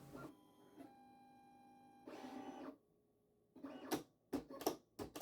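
A Silhouette cutting machine scans registration marks with its lid closed, giving a steady motor whir with tonal hum, short pauses, then a series of sharper mechanical clicks and bursts near the end.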